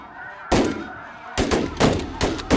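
Shotgun blasts during a snow goose hunt fired from an underground pit blind: four sharp, loud reports in quick, uneven succession, each followed by a short echoing decay.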